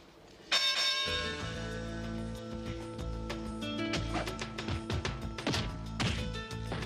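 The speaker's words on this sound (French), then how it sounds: "Envoie-moi le gong." A gong struck hard, a bright metallic crash ringing with sustained shimmering tones, followed by further clanging and banging hits over several seconds, fairly faint overall.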